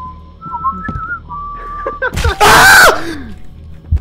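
In a horror Minecraft modpack, an eerie, wavering whistle drifts in and out at moderate volume, then a loud, harsh burst like a shriek cuts through before fading.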